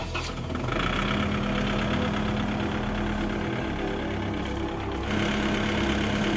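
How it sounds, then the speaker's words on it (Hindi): A Kubota MU5501 55 HP four-wheel-drive tractor powers a P-55 paddy thresher with seven fans, giving a loud, steady, continuous engine drone with a constant mechanical hum and no pauses. "इस थ्रेसर पर जो ट्रैक्टर इस्तेमाल किया है हमारे किसान भाई ने वो कुवोता का MU5501 है"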